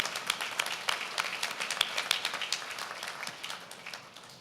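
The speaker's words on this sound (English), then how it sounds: "It is, you can clap." Graduates and guests at a 2018 University of Guelph-Humber convocation ceremony break into applause, a dense patter of many hands with sharp individual claps near the start, heard alone and gradually thinning out.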